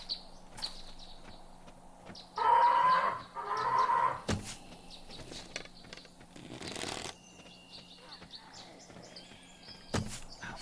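A bird enemy in the survival game 7 Days to Die gives two loud clucking, squawking bursts amid scattered game clatter, sharp clicks and a brief rushing whoosh, moderately close with no talking over it.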